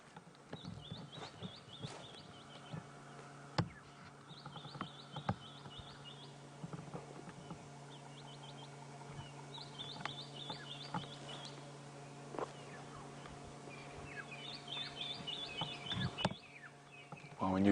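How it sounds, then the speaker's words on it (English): Several bird species call from the bush during a morning safari drive in the African wild, with repeated chirps and trills at moderate distance over a low vehicle hum and faint insect sounds. "listen and try to figure out how many different bird species can you hear calling"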